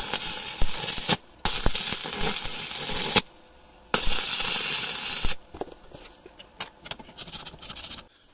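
Steel M12 bolts and nuts clink, rattle and scrape as they are handled and sorted, in loud bursts separated by short pauses and followed by lighter scattered taps, with no talking.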